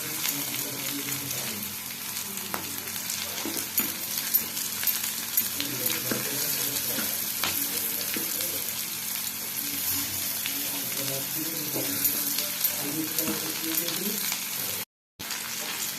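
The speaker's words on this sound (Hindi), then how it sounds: "पियाज टिके लाल हो आसले से कटा रसुण आउ कंचा लंका को देई भाजी नेबा" Chopped onion, garlic and green chili frying in a pan for Bathua greens: a steady close hiss and crackle of hot oil with occasional stirring scrapes.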